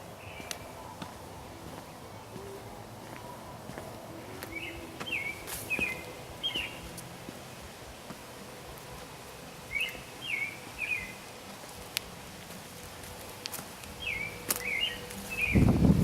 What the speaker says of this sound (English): Do you hear the birds in the backyard?